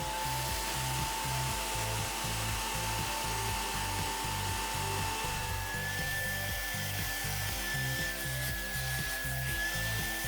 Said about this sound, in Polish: Podobnie czyszczę zagłówek, z tym że jednocześnie spryskuję i odsysam.